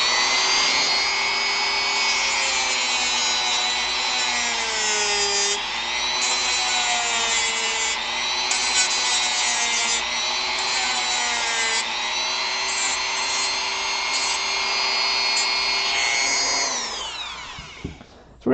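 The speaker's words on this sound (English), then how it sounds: "I can just keep sanding this down until it kind of feels right." A high-pitched rotary power tool whines continuously while sanding down a model part for a Final Fantasy V figure build, its pitch dipping slightly under load before spinning down at the end.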